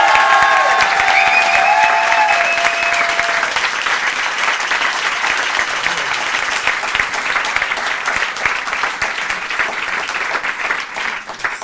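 An audience at Kandidator, a French television show, applauds its patron Philippe Chevalier with loud, dense clapping that holds steady for the whole stretch, with faint tones in the background at the start.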